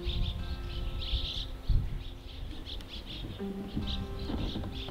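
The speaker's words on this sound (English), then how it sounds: "swallows have it surrounded and even nest in the upper area." Swallows chirp around the old Sumpter Valley gold dredge in Oregon, repeated high bird calls rising and falling over a low background rumble.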